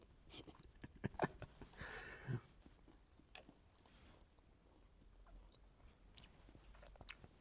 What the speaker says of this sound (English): Chewing gum, flavour is spearmint, because, surprise, I cannot smoke in here.